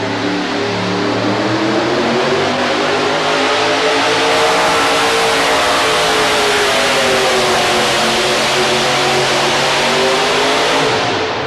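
A 4wd pulling truck's engine roars at a 1990 truck pull in Louisville, Kentucky, a loud sustained revving with rising and shifting pitch that holds at full power for the whole stretch before cutting off at the end.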